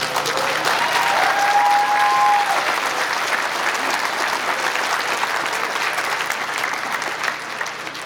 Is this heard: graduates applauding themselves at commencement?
yes